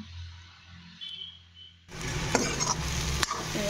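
Chopped banana flower and boiled potatoes in a frying pan, quiet at first, then a sudden burst of sizzling with spoon scrapes and knocks against the pan as the mixture is stirred; no talking.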